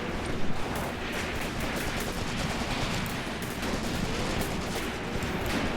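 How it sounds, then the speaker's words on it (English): Gunfire in the WWII tactics game Graviteam Tactics: Mius Front, where a commander fires a Luger pistol amid a dense, continuous wash of battlefield shooting that stays steady and loud throughout. "Look at that commander firing his Luger as best he can."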